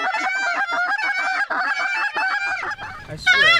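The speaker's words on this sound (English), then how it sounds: "I hear birds. They're right there." Repeated loud honking calls from geese close by, a rapid series of nasal honks rising to a busier chorus at the end.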